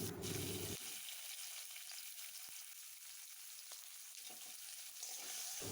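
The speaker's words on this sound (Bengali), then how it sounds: "কাঁচা কলাটা নুন আর হলুদ দিয়ে কিছুক্ষণ ভেজে নেবে।" Raw green banana pieces frying in oil with salt and turmeric for shukto: a soft, even sizzle that runs on with occasional faint stirring clicks, quiet and close, no voices.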